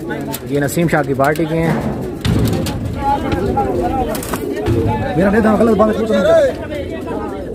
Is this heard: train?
no